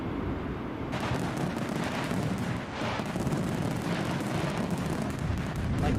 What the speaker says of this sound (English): Fireworks for Alibi